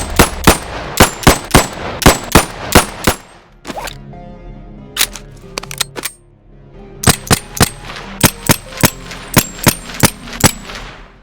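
Rapid pistol shots from an M1951 in the VR game BONELAB ring out loud and close in two quick strings of sharp cracks, separated by a stretch of quieter metallic handling clicks.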